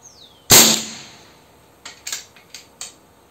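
One sharp report from an air rifle shooting an AP pellet at 30 meters, loud and close, trailing off, then a scattered series of quieter metallic clicks and ticks over a calm outdoor backdrop.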